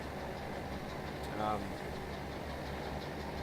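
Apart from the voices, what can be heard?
yard tractor engine idling, video game Farming Simulator 17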